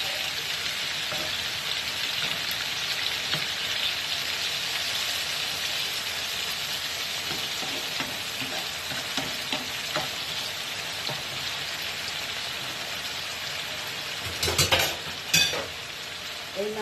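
Guttum fish sizzles steadily in a pan, a moderate, continuous frying hiss with occasional light stirring taps and a short burst of louder clatter near the end.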